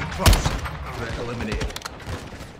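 Several sharp gunshots crack in quick succession, a burst of gunfire in Call of Duty: Modern Warfare 2 (2022), with a busy mechanical background and faint murmuring.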